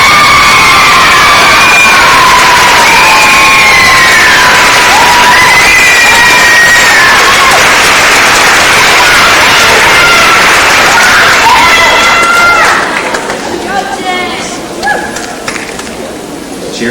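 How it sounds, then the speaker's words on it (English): A crowd cheers and shouts loudly at the 2003 Miss Strassenfest Queen's Pageant in Jasper, with whoops and whistles rising over sustained applause before dying down near the end. "cheering is good. We like cheering."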